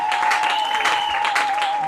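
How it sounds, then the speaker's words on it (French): A church congregation applauding during a French-language worship service and church dedication: dense clapping runs throughout at close range, with a sustained tone, probably from music or a keyboard, sounding beneath it. "Est-ce qu'on peut acclamer pour la gloire?"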